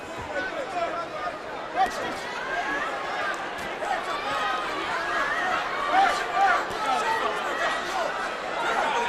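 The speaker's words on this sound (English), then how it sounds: "You hear the very pro-FALOWO crowd" Boxing crowd at a CES Boxing event cheering for Thomas Falowo against Julio Garcia in the closing seconds of round five, a steady roar of chatter and shouts with scattered louder yells throughout.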